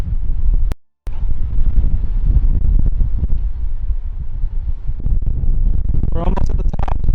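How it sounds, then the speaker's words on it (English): Strong wind buffets the microphone on an Appalachian Trail mountain top, a loud, rough rumble with one sudden dropout, and a person talks over it near the end. "Wow, that wind is crazy right now."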